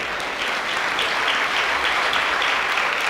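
Steady, dense audience applause at a Hindi kavi sammelan poetry gathering, loud and continuous for the whole stretch with no break or talk over it.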